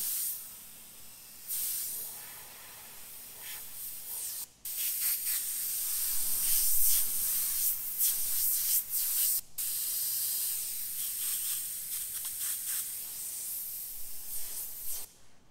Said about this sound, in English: So decent enough suction feed airbrush